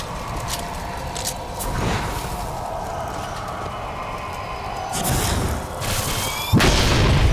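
Fireworks explode in the video game Bioshock Infinite, several sharp booming bursts spread across the stretch over a steady background bed, with crackling tails after the later blasts.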